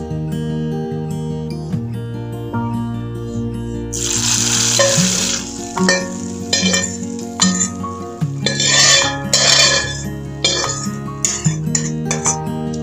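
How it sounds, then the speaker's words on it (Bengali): Tempering (phoron) goes into a pot of nearly cooked khichuri, giving a sudden loud burst of sizzling and frying followed by metallic clinks and stirring, over steady background music. "এরপরে আমি তৈরি করে রাখা ফোড়নটা এর মধ্যে অ্যাড করে দেব।"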